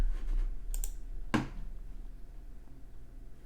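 Keyboard typing on a computer, a few soft quiet key clicks at the start followed by one sharper, louder keystroke, then near silence in a quiet room.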